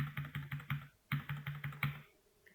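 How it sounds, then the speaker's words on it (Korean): A computer keyboard's left arrow key is tapped in two quick runs of about five presses each, with a short pause between them. The clicks are crisp, close and even, with no voices. "그 다음에 왼쪽 방향키 10번 눌러볼게요."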